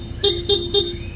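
Three quick, evenly spaced toots from the stock horn of a Honda ADV160 motorcycle, close and clear over a low background rumble.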